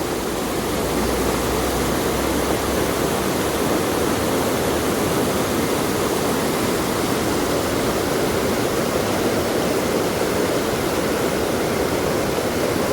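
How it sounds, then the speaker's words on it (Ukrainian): A swollen river in Northern Ireland, running high after days of rain, rushes and churns with a loud, continuous broadband roar, steady and close, with no voices. "Яка сила води."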